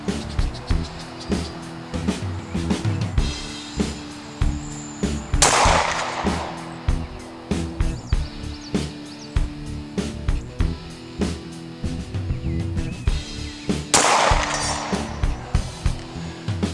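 Glock pistol fired at long range with 230 grain jacketed hollow point rounds, a series of sharp, evenly spaced cracks outdoors, loud and close, with two especially strong blasts among the steady rhythm of shots.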